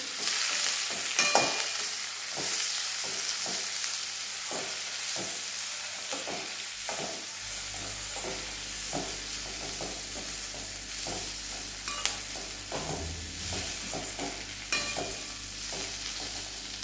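Turmeric being stirred into green chillies and vegetables frying in a pan: a steady close sizzle broken by regular scraping strokes of a spoon against the pan, with no talking.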